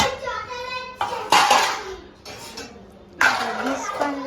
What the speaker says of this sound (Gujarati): ડીશ પણ લઈ લીધી છે